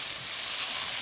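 Vegetables sizzle in a pan with a steady, loud, close hiss of frying, holding even and unbroken, with no voices.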